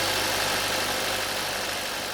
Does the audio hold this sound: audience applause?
no